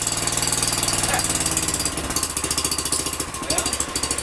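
The engine on a Manco Dingo starts and runs with a rough, rapid chugging beat, loud and close, its rhythm slowing and stuttering toward the end.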